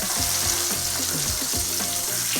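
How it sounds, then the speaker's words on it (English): Lemon slices sizzling steadily in a hot skillet while deglazing the pan for lemon butter chicken, with a loud continuous fry hiss and repeated low scraping pulses as the pieces are moved. "as the lemons are cooking, they are actually deglazing the pan"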